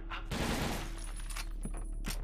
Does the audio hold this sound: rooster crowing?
no